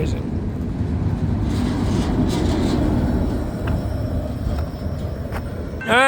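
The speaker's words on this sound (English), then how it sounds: "Entire unit train of auto racks." A long freight unit train of auto rack cars rolls past a no-horn grade crossing on the FEC line, a steady low rumble and rattle of wheels close by, with a few sharp clanks and a rising tone at the very end.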